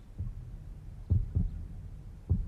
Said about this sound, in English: she could feel a heartbeat, steady and strong.